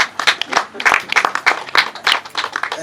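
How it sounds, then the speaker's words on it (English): Scattered hand clapping from an audience at a graduation ceremony, uneven irregular claps rising and falling over about three seconds, fairly close and moderately loud. "Oh, my wife is clapping and all supporting him."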